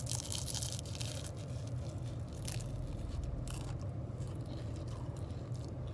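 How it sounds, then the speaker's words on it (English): Biting into a shrimp spring roll gives a crisp, close crunching with brief crackles that repeat over a few seconds against a steady low background hum. "Did y'all hear that crunch?"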